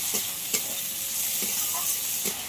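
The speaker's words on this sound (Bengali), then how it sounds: "পেঁয়াজটা আমার ভাজা হয়ে গেছে আদা রসুনের সঙ্গে। এবার এতে দিয়ে দেবো একটা বড় সাইজের টমেটো কুচি। টমেটোটা যতক্ষণ না গলে ততক্ষণ একটু ভেজে নিতে হবে।" Chopped tomato frying with onion, ginger and garlic in a pan, a steady soft sizzle broken by several brief scraping stirs at uneven intervals, close and fairly quiet, with no voices.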